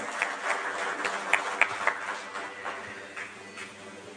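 A room full of people applauds at a convention welcome speech, a steady wash of clapping with a few sharper claps standing out, sustained throughout.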